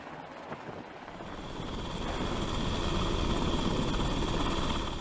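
A helicopter transferring goods to a ship drones steadily, its rotor and engine roar swelling louder as it draws closer and then holding loud and continuous.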